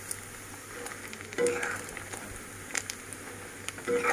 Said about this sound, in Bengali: এই যে পাতিলে উঠিয়েছি, এভাবে আমি তেলে মাংসগুলি ভেজে নিব